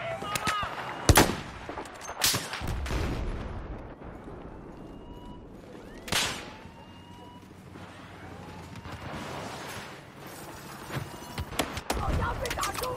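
Battlefield 4 gunfire rings out in scattered sharp cracks and short bursts, a few loud close shots standing out over a busy, rumbling combat background.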